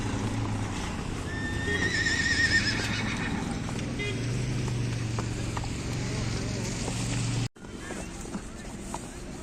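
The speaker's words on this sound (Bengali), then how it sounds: "আমি এখন ঘোড়ায় করে যাচ্ছি অঞ্জলি শিব মহাদেব দেখতে" A horse whinnies near the start, then hooves clop at a walking pace over a low engine-like drone and wind, during a horse ride in Solang Valley, India.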